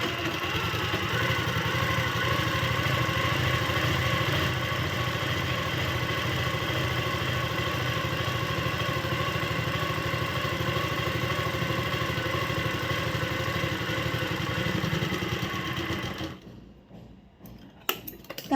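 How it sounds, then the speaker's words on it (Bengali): A sewing machine runs steadily as it stitches a folded churidar blouse strap, a continuous close mechanical whir that holds for about sixteen seconds and then stops abruptly. "এটা এক চাপ বলে, এটা সেলাই করছি।"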